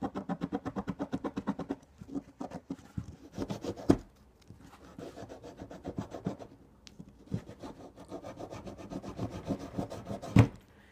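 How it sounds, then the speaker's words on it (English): Hand rubbing and scraping at surface rust on a metal part in a garage, producing bursts of rapid rhythmic strokes with pauses between them, close and moderately loud, with one sharp knock near the end. "Just rub it and try and do your best to scrape off all of the stuff on here."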